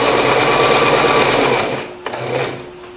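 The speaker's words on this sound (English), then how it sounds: "now I'm sewing alongside the line" A sewing machine runs steadily, stitching fabric along a marked line, loud and close, its whirring motor tapering off near the end with a brief click as it slows to a stop.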